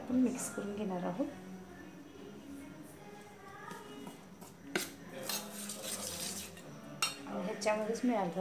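A spoon clinks and scrapes as besan (gram flour) batter for dhokla is mixed in a bowl. The close, irregular stirring taps come in bursts, with someone talking over them.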